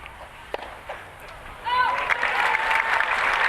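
A tennis crowd at a Davis Cup semi-final in Brisbane bursts into applause partway through, a loud, dense clatter of clapping with cheers, after quieter ambience and a few isolated thumps.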